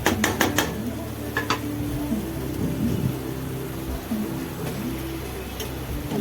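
Masala sautéing in a pan for mutton biryani, with a few sharp metal clinks of a spoon against the pan early on, then a steady low background of cooking and scraping.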